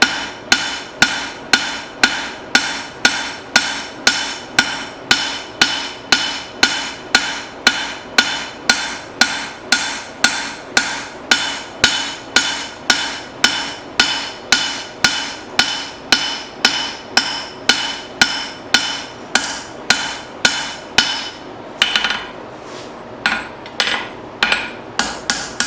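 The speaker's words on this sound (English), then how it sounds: "I'm going to start off using my rounding hammer to kind of spread it in all directions." A rounding hammer forging a steel spoon bowl, with dozens of sharp, ringing metallic strikes at a fast, steady rhythm, close and loud. A brief pause comes near the end before the blows resume.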